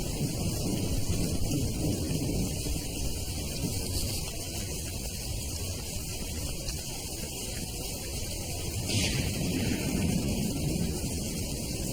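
A thunderstorm over a dam construction site brings steady heavy rain hiss with a low continuous rumble of thunder and wind, sustained at an even level throughout.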